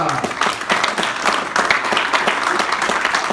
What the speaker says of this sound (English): Everybody get a good round of applause